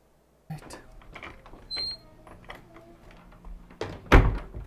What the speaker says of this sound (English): Why did they close the door?